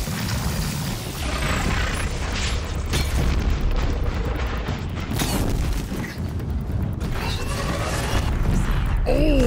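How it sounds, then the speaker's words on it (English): In the video game Horizon Zero Dawn, a big explosion booms with loud, sustained rumbling and crashing debris that fill the whole stretch, and smaller bursts and pops follow it. "Oh, that was a big old explosion."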